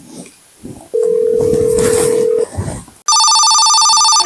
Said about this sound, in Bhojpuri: अरे फोन आ गइल